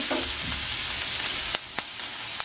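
Onions frying in a pan for a restaurant-style fish masala, a continuous close sizzle with light stirring scrapes and a few sharp spatters and crackles near the end, no voices.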